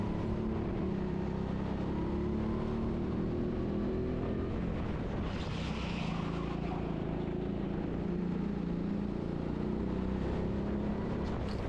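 A go-kart that feels off-form runs laps at the TeamSport Sheffield indoor track, its engine a continuous, even drone with a faint rise and fall in pitch. Light rushing noise sits underneath.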